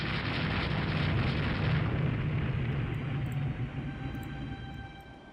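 Naval shellfire from a night action in Rule the Waves 2, a continuous heavy rumbling roar of blasts and booms, loud and sustained before easing slightly toward the end.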